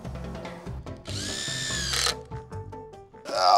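A power drill swapping uncoated screws for coated ones in a deck frame, with short whirring bursts, a sustained high whine as a screw drives, and ratcheting clicks between runs.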